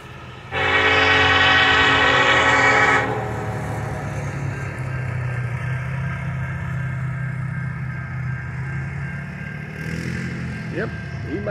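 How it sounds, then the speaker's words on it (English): Westbound Norfolk Southern freight train led by Union Pacific locomotives in Shawsville, Virginia: a loud, steady horn blast for about two and a half seconds, then a continuous low rumble of passing railcars, with a faint second horn note near the end. "I'm back here in Shawsville fixing to catch another westbound Norfolk Southern"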